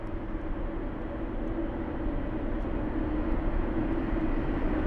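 British Airways Boeing 777 departing Heathrow, a steady broad jet engine roar holding loud and constant throughout, with no voices over it.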